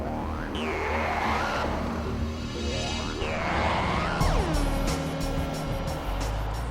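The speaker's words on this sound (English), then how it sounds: "The exhaust has in fact been tuned to deliver a full-bodied roar." A Jaguar XF with a tuned V8 exhaust accelerates hard, its full-bodied roar climbing through repeated rising sweeps with gear changes, loud and continuous, with a brief tyre or road noise near the end.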